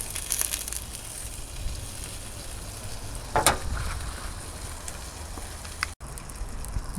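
Breakfast sizzling and frying in a pan, a steady broadband crackle close by with a brief louder burst of sizzle around the middle, no talking.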